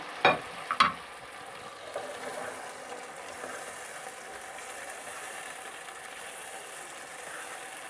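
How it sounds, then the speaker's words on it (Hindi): Carrot, onion, cabbage and capsicum stir-fried on high heat for noodles: a soft, steady sizzle runs throughout, opened by a couple of sharp clacks of a utensil against the pan. "गाजर, सब्ज़ प्याज, बंद गोभी, प्याज, शिमला मिर्च 2 से 3 मिनट तेज़ आंच पर वेजिटेबल को पकाएंगे"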